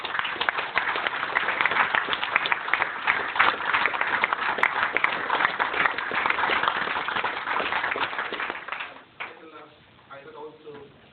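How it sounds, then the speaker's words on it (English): Sustained office applause from a group celebrating a promotion, steady dense clapping for about nine seconds before it fades and a voice speaks. "So please give a big round of applause."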